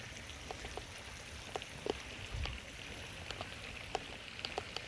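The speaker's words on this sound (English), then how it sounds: "And that is all dirty water coming out of the filter." Dirty water splashes and trickles out of a pressurized koi pond filter, a soft continuous rush dotted with faint drips and small plops.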